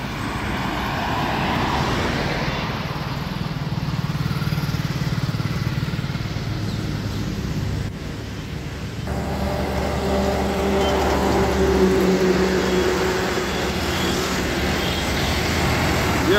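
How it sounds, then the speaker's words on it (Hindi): A tractor hauling a sugarcane trolley drones steadily and close by, its heavy engine rumble shifting partway through as it rolls past, with no talking. "फार्म ट्रैक आ रहा है गन्ने लेके"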